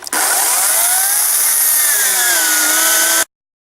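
A freshly sharpened chainsaw cutting through a large log into small pavers gives a loud, continuous, raspy roar close by, its engine pitch sagging slightly under load, then stopping abruptly.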